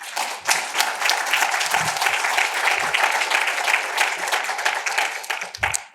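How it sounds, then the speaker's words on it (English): Sustained audience applause at a State Representative's address, a dense, steady wash of many hands clapping throughout, loud and close with faint crowd voices mixed in. "the applause for the 6 credit ratings was not lost on me"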